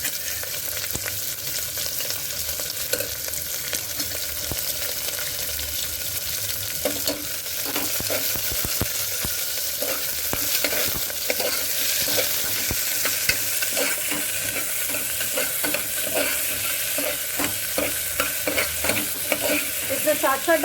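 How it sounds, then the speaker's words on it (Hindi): Chopped onions fry in a pan for Kashmiri green beans and onion gravy, a steady close sizzle with repeated scraping stirs of a spoon throughout. "प्याज को हमें लाल नहीं करना है, हम खाली इसको ट्रांसलूसेंट होने तक भूनेंगे।"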